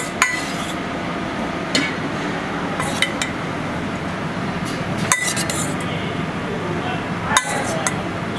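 Clinks and taps of a utensil against a bowl while stirring a dressing of white balsamic, olive oil and seaweed, irregular sharp knocks over a busy restaurant kitchen background.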